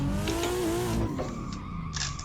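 A BMW drifting around the Bihoku Highlands track in Assetto Corsa, its engine roaring continuously under a sustained, wavering tire squeal as the car slides through a corner.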